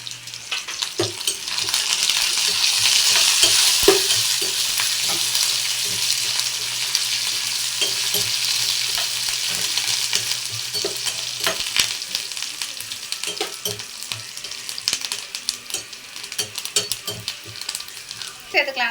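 Curry leaves sizzle and crackle in hot oil while ginger thokku cooks, a steady dense frying hiss with occasional sharper pops and faint stirring, close and continuous throughout.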